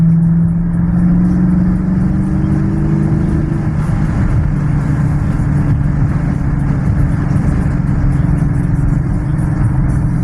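A deep, steady naturally aspirated 392 V8 car engine drones loudly and close, a low rumble holding near idle with slight swells, no voices over it.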